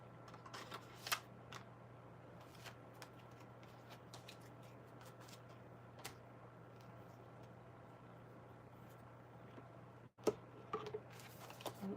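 Tarot cards being shuffled during a live reading, a soft continuous riffle and ticking of cards close to the microphone, faint over a steady low hum, with a brief cut near the end.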